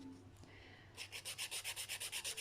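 A hand file rubbing across an acrylic polygel nail extension being shaped into an almond form, faint at first, then a steady run of about a dozen quick, even back-and-forth strokes, close and alone.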